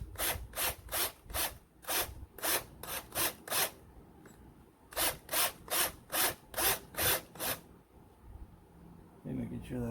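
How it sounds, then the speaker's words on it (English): A 1-inch step drill bit grinds through a plastic panel while a parking brake lock is fitted to a Can-Am Ryker, making close, loud, rhythmic bursts in two runs separated by a short pause. "So I'm using a 1-inch step drill bit."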